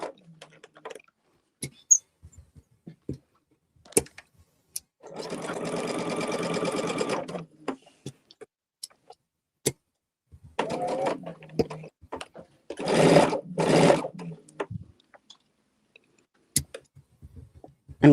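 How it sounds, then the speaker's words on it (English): A sewing machine stitches quilt blocks over a small fabric hump in short bursts, a steady mechanical whirring of two to three seconds each, separated by quiet handling clicks near the machine. "whether or not this will sew over that little hump again"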